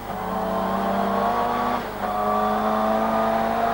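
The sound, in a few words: 500 horsepower saloon racing car engine accelerating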